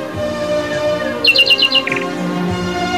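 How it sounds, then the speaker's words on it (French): Small birds chirp and tweet in a forest, a rapid burst of bright, high calls rising over a soft, steady woodland background with no voices. "Voyons les oiseaux."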